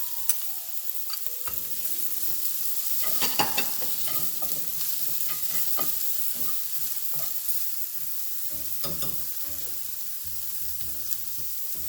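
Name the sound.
carrots added to onions sizzling in a stir-fry pan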